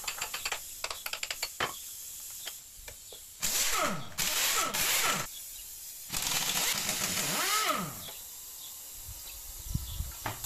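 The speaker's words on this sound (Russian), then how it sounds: "Дальше откручиваем болты и демонтируем гидравлический насос усилителя руля" Bolts are unscrewed with a pneumatic ratchet wrench during removal of a car's hydraulic power steering pump, with bursts of whirring rattle between faint clicks and ticks of metal in a quiet workshop.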